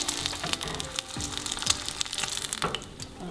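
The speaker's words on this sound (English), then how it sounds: "I'm going to fry all 5 eggs" Five eggs sizzling and spitting in hot oil for a Thai fried egg salad, a dense crackling hiss up close with occasional scrapes and bubbling pops.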